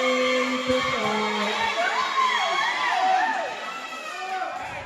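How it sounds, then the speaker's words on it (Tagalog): A crowd at an open-division basketball game cheers and shouts, loud and continuous, with excited voices and whoops rising over a dense wall of noise before easing slightly at the end. "Grabe namang crowd yan."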